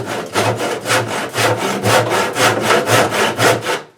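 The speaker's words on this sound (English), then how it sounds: "take the trusty handsaw and cut this." A handsaw cutting through wood with about twelve even back-and-forth strokes in a steady rhythm, close and loud, ending as the cut finishes.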